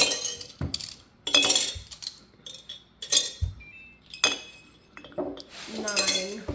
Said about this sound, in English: could you place them equally in the 3 glass mason jars?